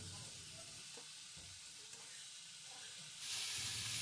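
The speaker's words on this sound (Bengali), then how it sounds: "অল্প অল্প জল দিয়ে দিয়ে আঁচ কমিয়ে মশলার সাথে সবজিটা খুব ভালো করে কষিয়ে নিতে হবে" Vegetables frying with spices in a pan on low heat with a little water, a faint, steady sizzle and hiss with a few soft stirring scrapes, the sizzle swelling louder near the end.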